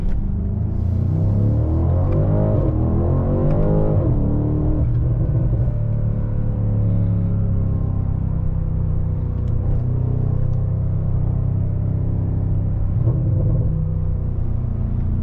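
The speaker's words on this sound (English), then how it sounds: "So now we just hit high speed and let the wind and Mother Nature take care of the rest." BMW G30 M550i cruising at high speed after a car wash, heard from inside as a steady low engine and road rumble with wind noise, rising slightly in pitch now and then, with no talking.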